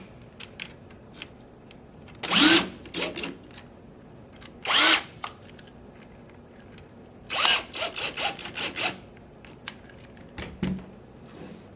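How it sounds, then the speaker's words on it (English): A power driver tightens the grip screws on an X7 Phenom paintball marker. Several short, close whirring bursts are separated by pauses, with one rapid cluster of brief runs near the end and no voices. "Tighten up our grip screws."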